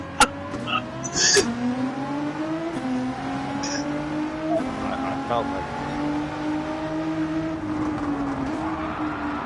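A car in a racing video game drives the Grand Valley Highway with a sustained tire and drivetrain whine over a steady engine hum, with a few sharp clicks early on.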